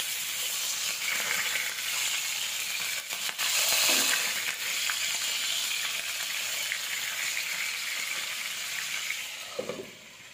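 A fish frying in a pan after being flipped hisses with a loud, continuous sizzle that stays steady before easing slightly near the end.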